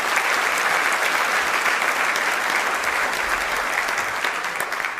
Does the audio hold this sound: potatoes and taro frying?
no